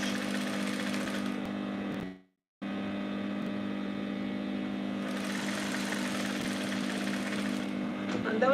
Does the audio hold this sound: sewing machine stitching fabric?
yes